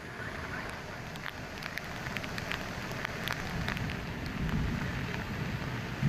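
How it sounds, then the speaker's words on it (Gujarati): Heavy rain pours steadily across rural Dhoraji in Rajkot district, a dense, even hiss of downpour with scattered drop patter, heard alone at moderate distance. "5 ઇંચ વરસાદ ખાબક્યો છે"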